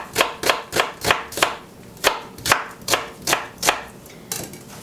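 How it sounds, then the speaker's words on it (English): A knife chops onions into thin moon-shaped strips on a cutting board, about a dozen crisp, evenly spaced cuts in a steady rhythm, close and clear with no talking. "to cut the onions, I'm cutting it into what I call silver moon shapes or moon strips"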